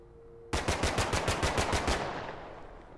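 A single close, loud burst of machine gun fire in the video game The Last Haven, about a dozen rapid shots in an even rhythm, trailing off into a short echoing decay.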